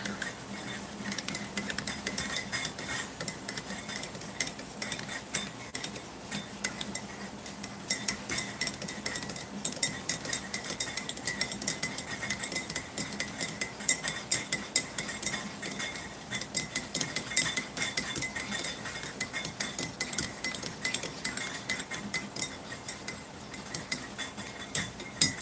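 A spoon stirs coffee in a cup during a military ration meal, giving soft, rapid clinks and scrapes repeated steadily over faint background hiss for a long stretch.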